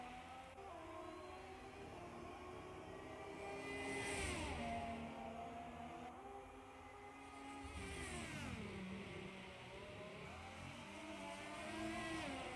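Race cars lapping a Formula 1 circuit in the F1 2018 game at the Austrian Grand Prix, engines rising and falling steadily through gear changes, with two louder passes standing out over continuous engine drone.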